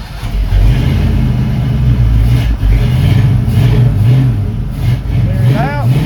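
Car engine cranked and revved during an oxygen sensor replacement, a loud close mid-pitched engine running steadily with rising revs, while people talk over it.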